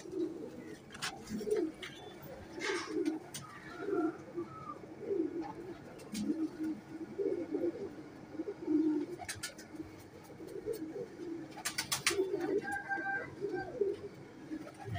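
Royal teddy pigeons in a breeding pair coo repeatedly in soft, low throaty bursts, nearby and continuous, with occasional chirps and small clicks around them.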